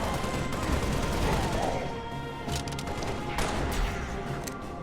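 Dense, sustained bursts of gunfire and thudding impacts from the top-down shooter game Halo: Spartan Assault rattle on continuously at steady loudness, without pauses.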